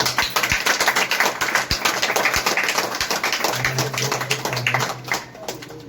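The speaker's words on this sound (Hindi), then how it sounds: "जबरदस्त तालियां बजाइए भाई" An audience claps at a shop opening program in Shamshabad, with scattered, irregular claps and taps of moderate loudness and a brief faint hum, fading out near the end.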